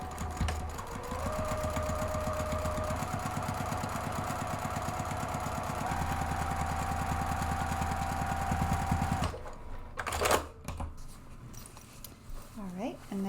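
A sewing machine stitches a row across the interior of a fabric purse organizer with a steady fast mechanical whir, close and continuous for about nine seconds, then stops and is followed by handling of fabric and a zipper.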